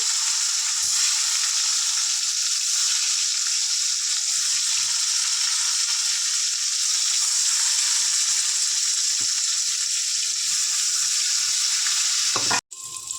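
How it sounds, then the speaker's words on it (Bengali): Steady, loud sizzling of salt-and-turmeric-coated eggplant frying in hot oil left from frying fish, constant hiss with a brief clatter near the end. "এই তেলেতে বেগুনগুলো ভেজে নেবো"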